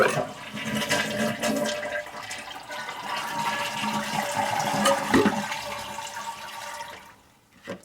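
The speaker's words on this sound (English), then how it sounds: "Let the water out of the reservoir." A toilet flushes as its tank is emptied with the supply shut off for a fill valve replacement. Steady close rushing and gurgling water runs for about seven seconds, then quickly trails off.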